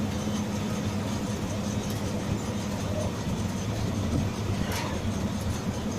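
A TSRTC bus goes by on a road, its steady low engine rumble and broad road roar holding at a constant level throughout, close and continuous with no talk.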